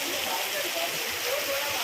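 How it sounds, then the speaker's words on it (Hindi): Steady rain pours down outdoors, a dense continuous hiss of falling water with no break, fairly loud and close throughout. "बारिश रुक भी नहीं रही।"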